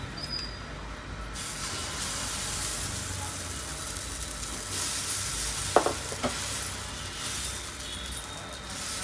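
Dosa batter poured onto a hot pan, with a steady broadband sizzle throughout and a few brief clinks around the middle.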